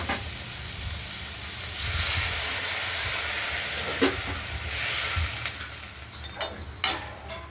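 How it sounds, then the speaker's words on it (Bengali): Water poured into a hot wok of drumstick stems, giving a loud steady steaming hiss and sizzle, with a few sharp spits and pops rising above it toward the end. "এবার একটু জল দিয়ে সেদ্ধ করে নেবো।"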